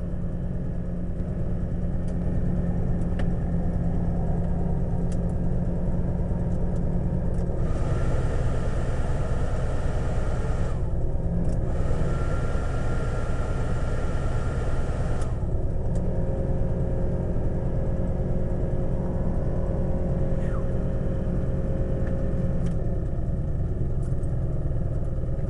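A 1989 Jeep Grand Wagoneer engine idles steadily after a cold start, a continuous loud rumble with a broad hiss that brightens briefly partway through, recorded close with no talking.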